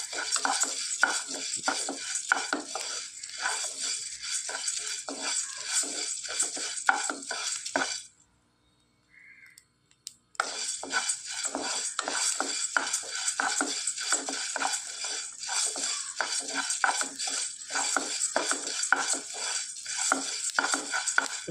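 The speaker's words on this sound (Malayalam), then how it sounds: "ഇവിടെ ഇപ്പോൾ ഞാനിത് മുതിര കഴുകാതാണ് വറുക്കാനെടുത്തത്." Unwashed horse gram dry-roasting in a pan for Kerala-style kanji, stirred continuously with a spoon: steady dry scraping and rattling of the seeds against the metal, with a brief pause midway before the stirring resumes.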